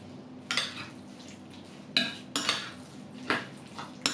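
A utensil mixes avocado with tomato and parsley in a bowl, making a few distinct clinks and scrapes against the dish at irregular intervals, fairly close and clear.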